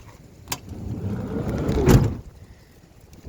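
A sliding side door on a 2010 Dodge Caravan SE wheelchair mobility van rolls along its track and thuds shut, a rising rumble ending in one firm close, near and alone.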